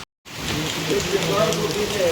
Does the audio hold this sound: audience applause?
no